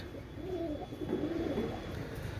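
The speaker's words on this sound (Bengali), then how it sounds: "দেখেন ভিউয়ার্স, অসাধারণ কবুতর" Pet pigeons of fancy breeds coo softly in low, rolling phrases, several murmuring calls overlapping at moderate distance over faint background hum.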